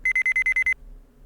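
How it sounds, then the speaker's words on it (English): A video game beep from Phoenix Wright: Ace Attorney plays as a rapid run of seven identical bright electronic pips, loud and evenly spaced, then cuts off into quiet. "Beep."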